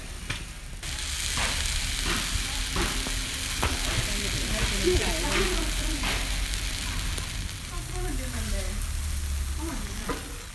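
A pancake topped with grated coconut and sugar sizzles steadily on a hot pan. Sharp taps and scrapes from the turner break through a continuous close hiss, with faint talk underneath in places.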